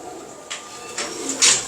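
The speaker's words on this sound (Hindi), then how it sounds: "ये उनके शौक के कबूतर हैं सारे" Pet pigeons kept as a hobby coo softly in a few short, breathy calls over a steady background hiss, moderately close with no talking.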